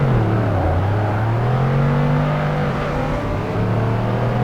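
A race car engine in Project Gotham Racing 2 revs loudly, its pitch rising and falling through gear changes in a continuous close whine that runs alone without talk.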